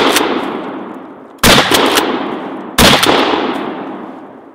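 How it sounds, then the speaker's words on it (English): A 12-gauge shotgun fires slug rounds, three loud close booming shots spaced about a second and a half apart, each ringing into a long decaying tail. "Next, we have 3 shots of slugs."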